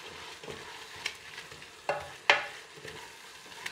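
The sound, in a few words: vegetables cooking and reducing in a pan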